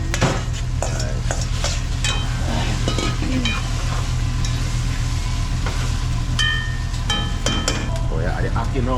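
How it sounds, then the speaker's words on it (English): Chopped onion added to a hot pot alongside black pepper for Jamaican cooking, a loud constant sizzle with busy clinks and scrapes of stirring, a low hum underneath and occasional faint voices. "So you add the onion to it now."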